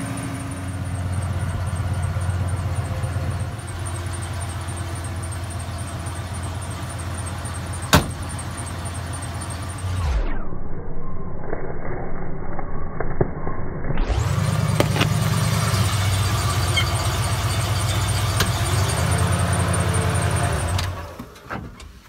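A car engine idles close by, then fades out as the car rolls over a roll of tape on the ground. The engine comes back loud and keeps running before it cuts off near the end.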